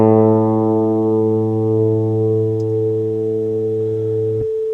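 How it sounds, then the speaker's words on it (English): A steady, loud A440 reference tone used for tuning a guitar, rich in even harmonics, sustains alone for over four seconds and then stops abruptly. "It has a really irritating A440 tone."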